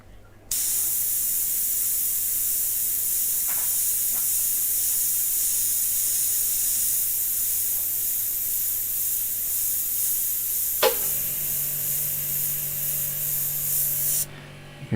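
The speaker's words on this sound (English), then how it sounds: "Here's my compressor." A quiet air compressor runs steadily alongside a continuous airbrush spray hiss, near and alone for nearly the whole stretch, with a sharp click about two-thirds through and the compressor's low hum shifting afterward.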